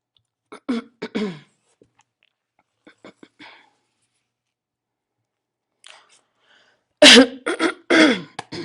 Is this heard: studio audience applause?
no